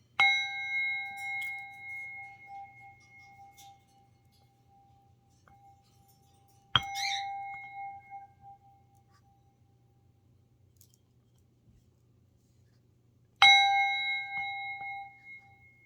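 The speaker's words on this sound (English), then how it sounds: "let's cleanse our energy with the sound bowl" A singing bowl struck three times, each strike ringing out with a clear, sustained tone that slowly fades, spaced several seconds apart in a quiet room over a faint low hum.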